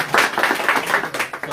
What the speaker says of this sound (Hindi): जोरदार तालियां पहले।